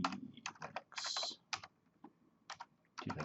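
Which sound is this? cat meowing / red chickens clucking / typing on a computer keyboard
typing on a computer keyboard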